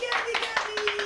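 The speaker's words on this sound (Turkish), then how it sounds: "Alkışlar geldi." A few people clap in a light, uneven rhythm at a casual gathering, fairly faint, while a voice speaks and a tonal sound hums underneath.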